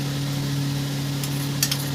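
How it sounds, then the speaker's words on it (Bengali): Ginger garlic paste sizzles in hot oil in a pan, a steady close frying hiss with a couple of faint clinks near the end, with no talk. "আদা রসুনের পেস্টটা দিয়ে দিলাম"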